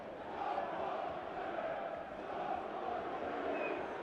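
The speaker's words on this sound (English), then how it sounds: "got a bit of an ooh from the crowd" Football crowd at a Bristol City versus Sunderland match reacting to a long-range shot, a distant, broad murmuring swell of stadium voices rising into a soft sustained ooh.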